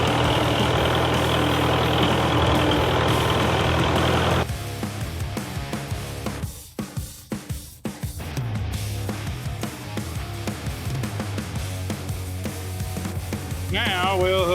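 A tractor engine idles, hooked up to run an old rock picker: a steady, fairly loud drone for the first few seconds, then a quieter, rougher running sound with a voice talking over it.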